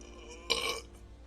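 A character in a visual novel video game lets out one short, clear burp against a quiet background.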